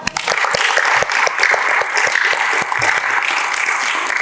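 A classroom of students applauds after a group answers during a history lesson, dense sustained clapping close by and steady throughout with no pauses.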